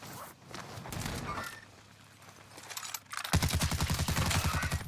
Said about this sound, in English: Invisible minigun.